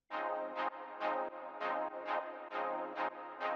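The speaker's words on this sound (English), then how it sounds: "It's sort of like a funky offbeat sort of stab synth." Funky offbeat synth stabs, short bright chord hits repeating in a syncopated rhythm, about eight punchy bursts with no other sound.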